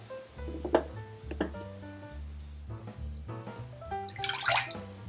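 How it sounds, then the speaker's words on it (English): Water is poured into a medium saucepan on a stovetop, with splashing and trickling bursts, light clinks and drips, a fairly quiet, close sound ending in a brighter splash. "Combine 1/2 cup of water"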